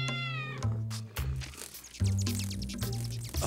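Cats meow loudly and close in a rapid string of calls, some drawn out and wailing, overlapping one another with no talking.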